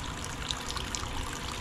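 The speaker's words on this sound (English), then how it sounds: "this is the water that comes up from the well." Fresh water from an old well runs in a steady, close trickle with a bright splashing quality. It continues unbroken and there are no voices.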